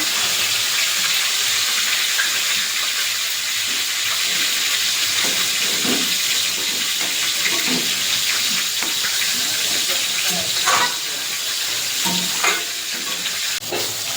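Ground cumin masala sizzling and frying in a pan with a splash of water, a steady loud hiss with occasional stirring scrapes throughout.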